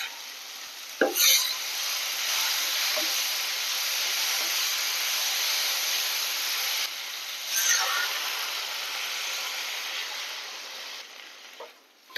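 A pot of water coming to the boil over a high flame before fish is added, giving a loud, steady hiss close by, broken by a few brief knocks and clinks of utensils.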